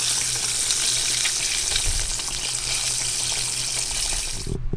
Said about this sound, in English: So guys, I finished frying the tonkatsu.